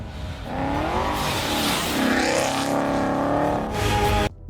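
A powerful supercharged car engine revs loudly up and down close by, its whining pitch rising and falling before cutting off sharply.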